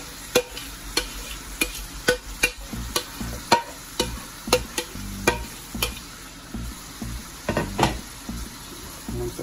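Seasoned mushrooms fry in a pan while a utensil stirs them, giving a steady run of sharp scraping knocks about every half second over a faint sizzle, close and alone.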